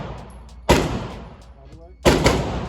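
Two sharp, loud gunshots from a handgun at an outdoor gun range, spaced over a second apart, each with a brief decaying tail over faint background noise.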